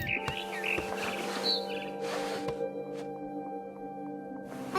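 A barn swallow chirps in the game What Remains of Edith Finch. Short, bright, clear tweets come in quick clusters over a steady ambient hum.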